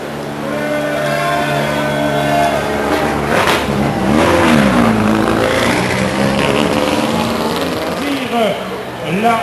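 At a Rallye du Condroz podium, a rally car engine revs loudly and repeatedly, its pitch climbing and falling in bursts, while someone talks over it.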